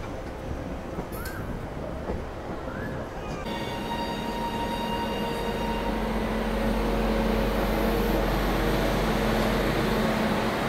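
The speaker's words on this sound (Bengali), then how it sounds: "এই পাশ থেকে আমাদের হাওড়া দীঘা লোকাল ট্রেন ছাড়ছে" The Howrah–Digha local train pulls out of Howrah station, its low rumble swelling steadily and nearby, with a sustained tonal whine layered over the platform noise.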